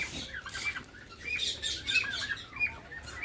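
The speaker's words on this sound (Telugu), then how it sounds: "బాతు చూసారా ఎలా ఉందో బాతు" Several ducks call in quick, bright bursts at a mini zoo park in Kothapakonda, a busy chorus of short chirps and quacks close by, with no talking.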